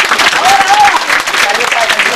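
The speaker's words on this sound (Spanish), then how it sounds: "aplausos" A rodeo crowd in Ponce Enríquez, Azuay claps in a dense, steady wash of applause, with a voice talking faintly underneath.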